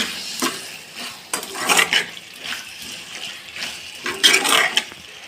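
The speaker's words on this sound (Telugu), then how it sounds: "ధనియాల పొడి కూడా అన్నిటికీ బాగా కలిసిపోయే విధంగా కలుపుకుందాం" Onion curry being stirred in a pan after coriander powder goes in, repeated scraping, swishing strokes of a spoon against the pan in uneven bursts, close and fairly loud, with no talking.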